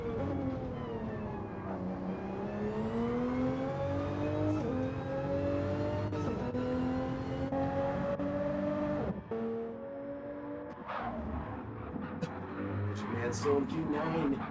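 A Toyota Supra GT4 race car descends the mountain at Bathurst, its engine note rising and falling through upshifts and downshifts in a loud, sustained whine, with a commentator talking over it.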